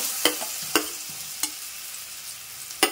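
Jackfruit, banana and mango pieces fry in ghee with a soft, continuous sizzle, punctuated by four sharp spoon taps against the pan at uneven intervals.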